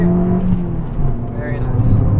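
A Ferrari F430 or Abarth 500 on the Mondello Park circuit accelerates hard, its engine note climbing steadily and loudly close by, with a voice talking over it.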